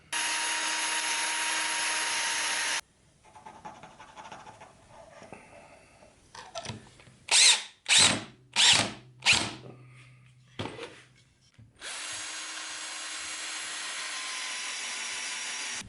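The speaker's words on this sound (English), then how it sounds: "and screw it into the block of wood." A power drill with a countersink bit drives 1 1/4 inch construction screws into a glued plywood block, heard as several short whirring bursts framed by a loud, steady broadband whir before and after.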